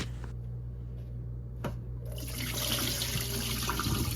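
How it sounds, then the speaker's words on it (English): Water splashes and pours from a bowl of neck bones into a sink, starting with a few drips, then a close, steady rush. "We are dumping this water and then I'm gonna refill it"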